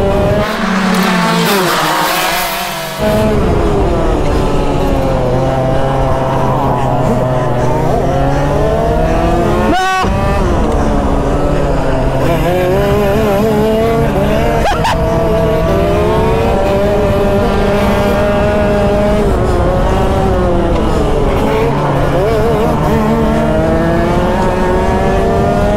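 Go-karts race and drift on a track with loud, continuous engine whine rising and falling as they pass, plus tire squeal through the slides.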